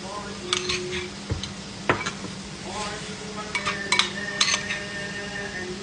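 Plates and dishes are handled while sauce is served in a home kitchen for homemade fried chicken: scattered light clinks and taps over a faint, steady low hum.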